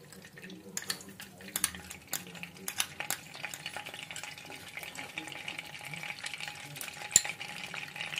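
Butter and oil sizzle in a frying pan already used for frying paneer, with sharp crackles and pops over a low frying hiss, and a voice speaks intermittently nearby.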